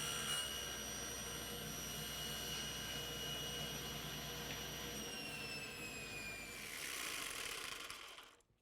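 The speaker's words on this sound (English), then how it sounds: "we're going to use a technique on the table saw called drop cutting" A table saw cuts plywood with the drop-cutting method, giving a steady high whine from the spinning blade that drops in pitch as the cut is made, followed by a brief harsh burst before spinning down.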